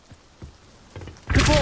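A spell-summoning sound from the Hogwarts Legacy video game: a few soft thumps, then a sudden bright whooshing burst at the end.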